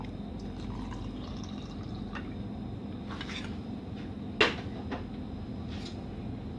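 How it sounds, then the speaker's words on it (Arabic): Quiet trickle of half a cup of warm milk poured onto a spoonful of sugar and yeast, a soft close liquid fill with faint clinks and one brief knock over a low hum. "وهحط عليهم نص كوباية اللبن الدافي"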